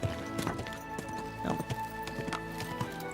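Horse hooves clip-clop at a steady walking pace in the medieval video game Kingdom Come: Deliverance 2, under background game audio, with a brief spoken word.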